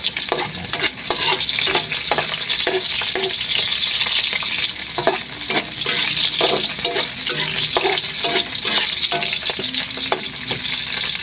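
Garlic, onion and ginger sautéing in hot oil make a loud, close sizzle, broken by repeated rhythmic scrapes and clacks of a utensil stirring the pan; no voices.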